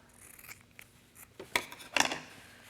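Scissors snipping thread after stitching a fabric waistband, a few quiet, sharp metallic snips and light rubbing, close by in an otherwise hushed room with no talking.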